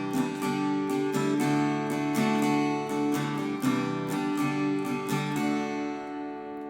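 Acoustic guitar strums a steady pattern of down and up strokes, a close continuous rhythmic chord with regular accents and no voices.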